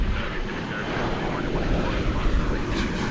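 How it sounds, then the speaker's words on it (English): An Airbus A319 taking off from runway 18 left at Dallas Fort Worth airport, a steady broadband jet roar heard from a distance and holding constant throughout. "I do believe that's off to Denver, Colorado, an Airbus A319."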